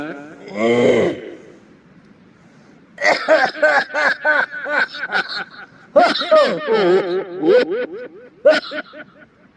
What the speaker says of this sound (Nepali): बुढो मान्छे भइसकेपछि खोकी लाग्छ